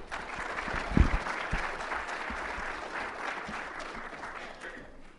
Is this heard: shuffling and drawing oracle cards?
no